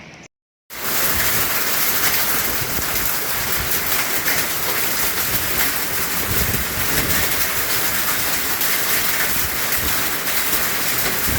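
Steady, dense unseasonal rain with hail pours down in Bhalwani, Pandharpur taluka, a loud continuous hiss of drops and pelting on surfaces after a brief quiet moment at the start.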